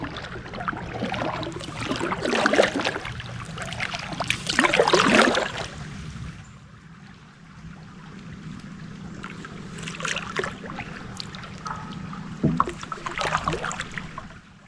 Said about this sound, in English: And I'm paddling against the current here.